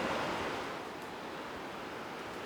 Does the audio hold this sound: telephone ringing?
no